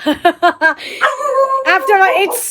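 A pet dog lets out four sharp, close barks in a quick run, then whines and yips in a higher, drawn-out pitch as a person talks over it.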